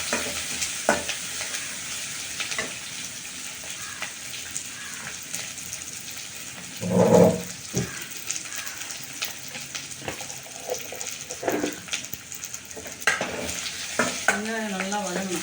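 Chopped onion sizzles and fries steadily in cold-pressed groundnut oil in a home kitchen, with a brief louder stirring scrape partway through and occasional utensil clinks.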